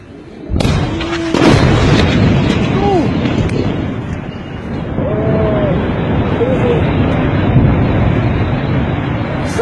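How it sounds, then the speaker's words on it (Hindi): Powerful blasts from airstrikes on Sana'a, Yemen, burst in abruptly and leave a heavy, sustained rumble. A few faint tonal whistles or sirens rise and fall through the roar, and people talk indistinctly underneath. "हर तरफ धमाके ही धमाके"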